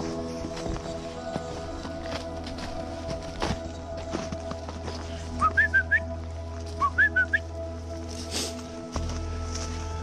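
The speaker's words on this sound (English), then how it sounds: "I'll give them a little whistle here and there just to let them know to stay in my vicinity" Short human whistles called out to dogs on an outdoor hike with a five-month-old puppy, two quick bursts of three or four rising chirps each, moderately near over steady outdoor background noise and footsteps.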